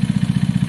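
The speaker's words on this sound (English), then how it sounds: "the engine sounds great with that cone on, especially slightly restricted" Close, steady low thrum of a KSR Moto GRS 125 motorcycle engine running with a cone exhaust, even rapid pulses in a very short burst.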